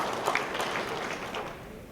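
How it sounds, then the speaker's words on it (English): A conference audience gives a short burst of faint applause for an attendee, with soft, distant clapping in a large room. "Scott, raise your hand, please, with a nice applause."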